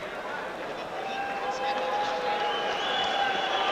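A boxing crowd in Verdun roars in a steady, dense wash of cheering and applause, loud and continuous, with a few faint whistles rising above it.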